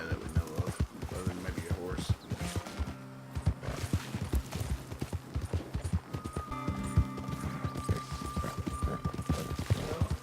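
Horse hooves clatter at a fast galloping rhythm in the Red Dead Online video game, with a neigh partway through, all under game sounds and people talking.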